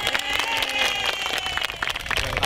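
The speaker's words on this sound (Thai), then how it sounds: "ขอเสียงปรบมือให้กับเกษตรกรตัวอย่างที่ไม่ใช้สารเคมีด้วยครับ" An audience claps for a model farmer who farms without chemicals, a steady dense patter of hands at a public gathering, sustained and fairly even for the whole stretch.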